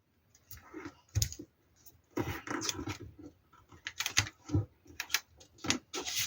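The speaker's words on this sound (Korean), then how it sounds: "그리고 뒤집어서 이렇게 이 부분이 여기에 닿도록 비스듬히 세모를 접어주세요." A sheet of paper being folded diagonally into a triangle for an origami yacht toy car, heard as close, irregular crinkles, taps and creasing clicks in short bursts with no talk.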